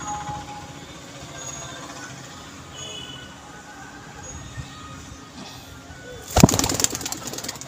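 A male pigeon coos softly and steadily at close range, with a brief burst of flapping or rustling near the end.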